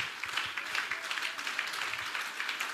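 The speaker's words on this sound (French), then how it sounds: "Clap for God." A church congregation claps together in a steady, continuous patter of many hands, moderately distant and filling the room, with faint voices mixed in.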